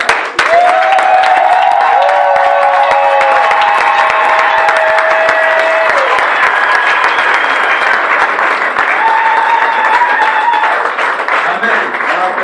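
A crowd at an evangelistic gathering in Brussels cheers and applauds loudly and steadily, with sustained whooping and ululating voices rising above dense, continuous clapping throughout.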